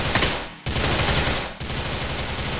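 Rapid automatic gunfire in Grand Theft Auto IV, loud and close, with sustained bursts broken by two brief pauses, no talking over it.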